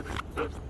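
A dog gives two short, close whimpering whines in quick succession, slightly nasal and fairly loud, with no talking.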